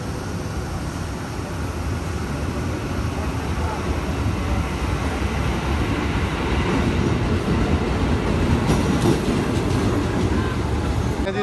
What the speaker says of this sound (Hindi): देखें जी, ट्रेन आ चुकी है।